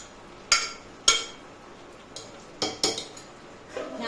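Mixed vegetable sabzi cooking in a pot is stirred with a metal spoon, producing several sharp clinks and scrapes against the pot at irregular intervals over a quiet background, with no talking.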